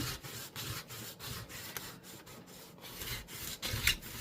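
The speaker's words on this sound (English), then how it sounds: "we're just going to burnish him down real good" Index card paper being burnished down by hand, with repeated short rubbing strokes in an even back-and-forth rhythm, close and fairly quiet, ending with a slightly louder swipe.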